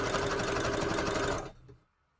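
A sewing machine stitches a border along the edge of junk journal paper, a loud, dense mechanical whir running for about a second and a half before abruptly cutting out into near silence.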